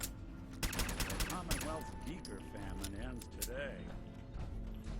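Rapid bursts of gunfire from a weapon in Fallout 4, sharp repeated shots clustered in the first half, heard beneath steady speech from someone talking throughout.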